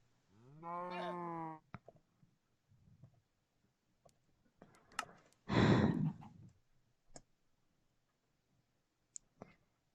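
A cow moos in the Minecraft video game, one loud harmonic moo near the start and a second, noisier burst midway, with clicks and quiet game sounds in between.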